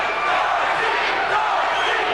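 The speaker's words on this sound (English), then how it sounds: "the crowd really into it with the chant of Dorsey, Dorsey" Boxing arena crowd at Troy Dorsey vs. Juan Valenzula (1992) chanting the fighter's name, a dense, steady roar of many voices filling the hall continuously throughout.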